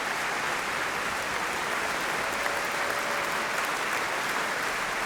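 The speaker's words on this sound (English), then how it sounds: "give him a round of applause." Sustained audience applause at a motorsport awards ceremony, dense and even clapping from a large crowd that continues without a break.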